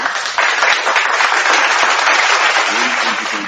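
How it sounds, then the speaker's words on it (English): An audience on a children's show gives a burst of applause, a dense, lively clatter of many hands that rises quickly and stays strong before easing slightly at the end. "I'm going to give you a little applause for that"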